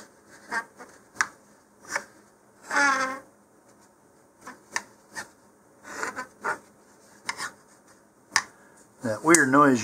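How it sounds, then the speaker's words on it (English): Fins of a model rocket scraping along a surface during assembly, heard as short, scattered rasping scrapes at irregular intervals, close and fairly faint in a quiet room, with a louder scratchy burst at the end. "That weird noise you're hearing is the fins going along the surface."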